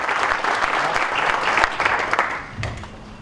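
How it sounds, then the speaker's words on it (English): Audience applause for young golfers at a junior golf tour awards ceremony, a dense burst of clapping that holds steady before thinning out toward the end. "a big round of applause for all the participants for their achievements this year"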